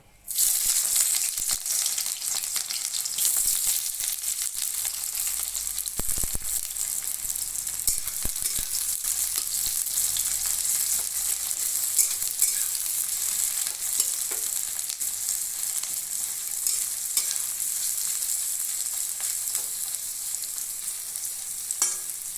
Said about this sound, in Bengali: ঘি আর তেলটা গরম হয়ে গেছে। প্রথমে পেঁয়াজ কুচিটা ভেজে নেব।